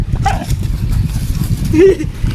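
A dog gives a couple of brief, high yelping barks, one early and one near the end, over a constant low rumbling background noise.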